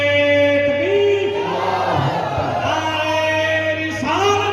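A large crowd at a religious gathering roars slogan responses in unison, loud and close, with a voice leading over sustained tonal chanting that swells and repeats.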